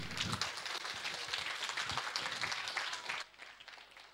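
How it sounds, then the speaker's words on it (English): An audience at a game development hackathon finals gives a team steady, moderately distant applause that thins out toward the end. "Please give a round of applause to the team."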